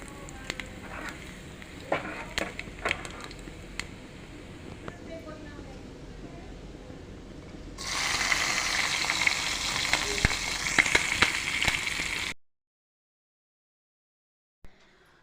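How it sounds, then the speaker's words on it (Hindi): Tadka tempering for dal sizzles loudly in hot oil in a home kitchen, a sudden bright hiss bursting in after quieter clinking and stirring and holding steady for several seconds before cutting off. "तो यहाँ पे गाइस मैं दाल में लगा दूँगी तड़का"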